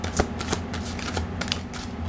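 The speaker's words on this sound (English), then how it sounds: "Okay, I'm going to pick three cards." Tarot cards being shuffled and handled as three are picked for a reading: a short, close run of soft papery flutters and riffles with a few light taps.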